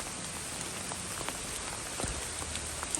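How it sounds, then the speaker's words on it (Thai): Heavy rain pours down in a steady hiss with scattered louder drops striking nearby surfaces, continuous and fairly close, with no voices. "ฝนตกหนักมากเลย ฝนเริ่มตกหนักละ"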